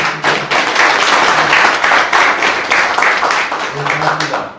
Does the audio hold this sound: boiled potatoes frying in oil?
no